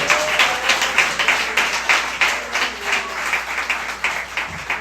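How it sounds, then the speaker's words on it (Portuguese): Applause from a church congregation at a Sunday service, a steady wash of many hands clapping with rhythmic pulses throughout, fairly loud and close, with no voices over it. "Agora pode dar uma salva de palmas ao Senhor."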